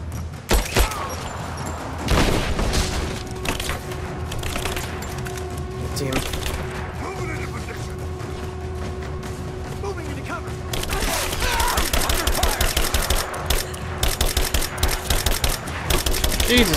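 Rapid weapon fire in Rise of the Tomb Raider rattles in dense bursts, with sharp repeated shots growing heavier and more continuous toward the end, mixed with game music and ambient combat noise.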